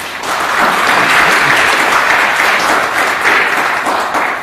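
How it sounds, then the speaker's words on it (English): A symposium audience at a legal conference gives loud, sustained applause, dense overlapping clapping that stays steady throughout. "could you please welcome by a round of warm applause."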